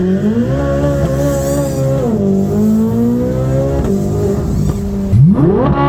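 High-performance car launching at full throttle with traction control off, engine roaring loudly and steadily as it accelerates, pitch rising and shifting, then a sharp rev sweep near the end, heard from inside the car.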